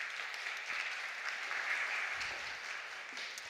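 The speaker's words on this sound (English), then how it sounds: "Let's give her a round of applause." An audience at a small-business digital growth summit claps steadily, a dense, even wash of applause from a modest crowd with no voices over it.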